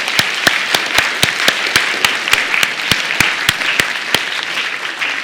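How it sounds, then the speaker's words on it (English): An audience applauds volunteers after a science demonstration, a steady wash of clapping with one nearby pair of hands beating a sharp, regular rhythm on top. "let's give our electrons a round of applause."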